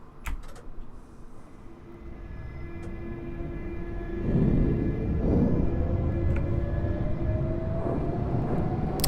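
A Central Line 1992 Stock train in the Open.BVE simulator pulls away, its motor whine rising steadily in pitch as the rumble grows louder, with a few clicks early on and no talking.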